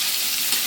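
Vegetables frying in a pan give an even, close sizzle that holds steady through the short moment, with no voices.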